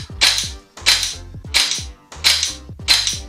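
Five sharp pistol shots fired down range after a transition from rifle to handgun, evenly spaced about every two-thirds of a second, loud and close with short echoing decays and no talk.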